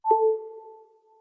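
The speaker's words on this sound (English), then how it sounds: "So Connect Power sounds like this." The iOS 11 Connect Power wireless charging chime: a single clean electronic ping with two pure tones, starting bright and trailing off in a long, smooth echoing decay.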